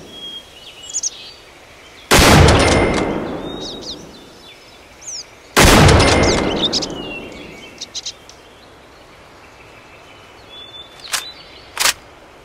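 Two loud rifle shots in Cabela's Big Game Hunter 2012, each a sharp blast with a long decaying tail, about three seconds apart, set against an outdoor ambience of faint birdsong and chirps.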